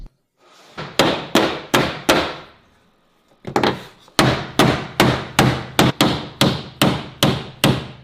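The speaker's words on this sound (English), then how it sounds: "Just grab a hammer." Repeated heavy hammer blows on a protruding metal part of a damaged Volkswagen Golf 8 GTI, a short run of strikes, a brief pause, then a long steady series of loud, ringing bangs close by.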